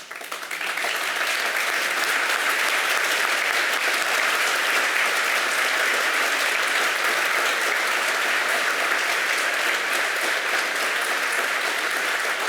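Loud, continuous audience applause at a Gulf War veterans honoring event, a thick, even wall of clapping from a large crowd that holds steady throughout.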